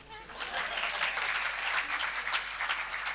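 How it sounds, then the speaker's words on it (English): An audience at a B.Tech batch inauguration claps steadily for a few seconds, a dense patter of many hands at moderate distance. "You can clap, no?"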